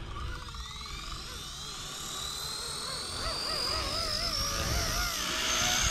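Small RC helicopter rotor spinning up with a noisy rotor head, rising whine with warbling tones that climb and grow louder, over a rough mechanical buzz.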